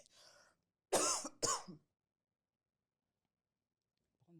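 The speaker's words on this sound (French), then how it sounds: "Tantôt, je vais tousser." Two sharp, loud coughs in quick succession, close by, after a brief murmur of speech, followed by silence.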